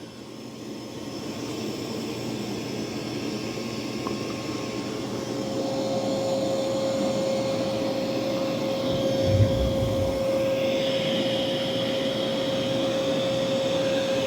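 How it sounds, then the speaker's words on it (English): Dreame Matrix 10 Ultra robot vacuum cleaning a floor, a steady whirring hum with a sustained tonal whine, close and continuous, with no one speaking. "it's doing a good job of vacuuming."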